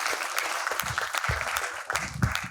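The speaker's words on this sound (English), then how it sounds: "Can we have a huge round of applause for Mr." Clapping from the audience at an HR conclave on talent management greets a speaker, a short, steady burst of applause with some uneven, louder claps rising and falling.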